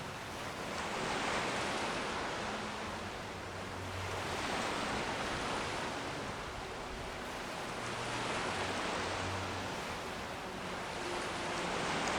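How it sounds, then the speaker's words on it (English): Ocean waves in Skyrim roll in steady broad swells of surf, rising and falling in slow cycles with a faint low hum beneath, continuous and fairly close with no talking. "I'm listening to the waves."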